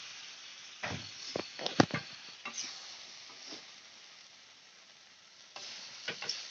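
Drained jackfruit pieces fry with spices in a pan, a soft steady sizzle broken by a series of close scraping stirs and clinks of the spatula, quiet and without talk.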